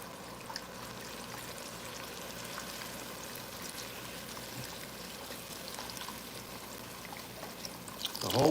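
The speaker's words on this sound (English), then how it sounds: "going in with all this broth here." Broth poured into a pot for lasagna soup, a steady close liquid stream and trickle running continuously, with a louder splash near the end.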